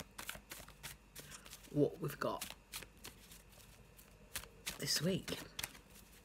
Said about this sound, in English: I'm just going to have a little shuffle, have a little look and see